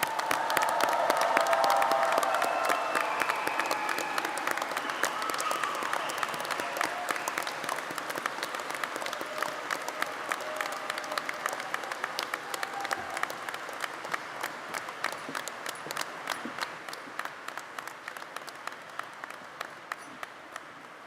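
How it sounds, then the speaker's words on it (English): Audience in a gymnasium applauds graduates at a university commencement, a loud sustained wave of clapping that swells at the start and slowly tapers while staying dense throughout. "How about a round of applause for all of our graduates?"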